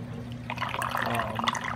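Water runs steadily through the overflow of an 80 gallon aquarium, a close, continuous trickle and gurgle over a low hum, with no talking.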